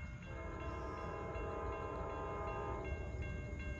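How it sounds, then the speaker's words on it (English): An Amtrak passenger train, southbound at Salisbury, sounds a sustained multi-tone horn over the steady rumble of the passing train, heard from a distance outdoors. "Amtrak 73 southbound here at Salisbury"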